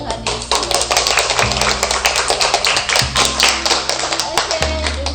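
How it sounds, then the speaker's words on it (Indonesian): Applause for Jesus at an online children's Christmas service of an Anglican church: steady, dense clapping of many hands over continuous background music, lasting throughout. "Berikan tepukan untuk Tuhan Yesus"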